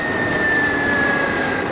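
A Victory Empulse TT electric motorcycle on the move, a steady loud whirring hum with a thin high motor whine over rushing wind, continuous and close.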